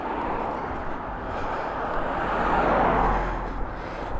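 Cars passing on a snowy roadside while someone walks nearby, a steady mid-distance traffic rumble that swells as a vehicle draws closer around the middle and then fades slightly.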